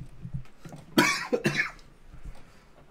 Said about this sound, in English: Hopefully you don't mind me coughing every couple minutes.